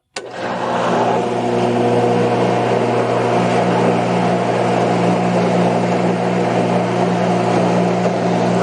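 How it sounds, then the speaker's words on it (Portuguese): Pool filter pump switching on and running while priming, a sudden start into a loud, steady motor hum with a constant tonal drone and churning water noise, close and unbroken. "a bomba está sendo escorvada"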